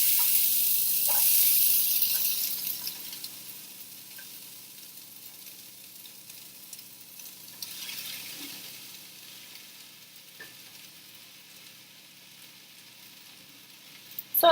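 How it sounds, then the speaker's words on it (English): Diced onions and mushrooms hitting a preheated skillet, a bright sizzle that starts strong and gradually softens into a quieter, steady hiss with occasional faint clicks of stirring. "now that my skillet is already heated, I'm gonna add the diced onions and the mushrooms"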